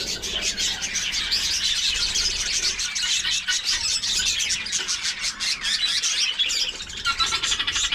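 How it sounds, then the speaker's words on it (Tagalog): Young birds, chicks, chirping nearby, a dense run of high, rapid peeps and squawks that keeps going without a break. "May mga inakay sa loob."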